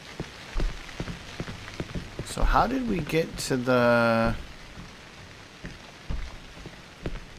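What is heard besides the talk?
rain in the video game Cry of Fear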